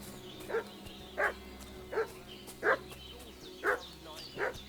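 A dog in the video game Kingdom Come: Deliverance II barks six times at a steady, unhurried rhythm, each bark clear and moderately distant over a quiet ambient background.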